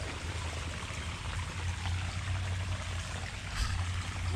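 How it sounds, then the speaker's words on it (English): Water pours continuously from a broken water main, a faint, steady rushing flow with a low rumbling undertone and no voices. "Water's still flowing."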